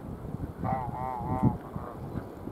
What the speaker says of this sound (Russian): Вон утки пошли.